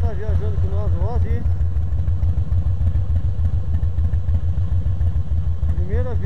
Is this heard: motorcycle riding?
yes